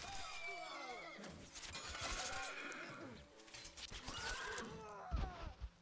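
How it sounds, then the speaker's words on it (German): Horses neigh and whinny repeatedly in the strategy game Stronghold Warlords, several rising and falling calls overlapping with game clatter and sound effects, fairly close and lively. "Die Pferde sind bereit!"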